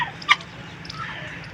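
A large, angry male turkey lets out one short, sharp gobble near the start, then outdoor background noise continues with faint scattered bird sounds.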